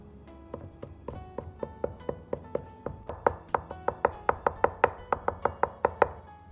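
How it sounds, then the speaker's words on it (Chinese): A knife chops garlic cloves on a board into paste, a steady run of close, crisp taps that speed up and grow louder into a quick regular rhythm. "然后再剁成蒜泥。"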